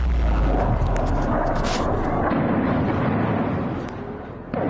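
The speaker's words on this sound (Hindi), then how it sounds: "अचानक एक प्रोजेक्टाइल गिरता है और जोरदार धमाका होता है।" A projectile strikes and a loud, booming explosion fills the air with a long roar of crackling rumble that gradually thins out toward the end.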